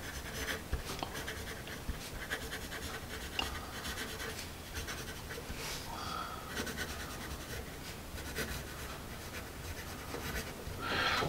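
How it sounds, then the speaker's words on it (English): A Generals Badger number two pencil scratches steadily across paper in continuous close writing strokes, with a slightly rough, scratchy texture throughout and no talking. "So first impressions, it's very much a number two pencil. It is a little on the scratchy side."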